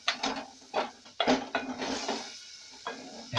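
A spoon stirs tomato and tomato paste in a metal pan for Kenyan beef pilau, making close scraping clinks and knocks. They come in an uneven rhythm over a faint sizzle.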